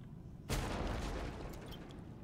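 A grenade blast in the video game Warhammer 40,000: Deathwatch lands as one sudden boom, followed by a sustained rumbling roar that slowly fades across the rest of the moment.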